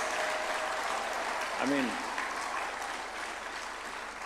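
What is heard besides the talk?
audience applause at a swearing-in ceremony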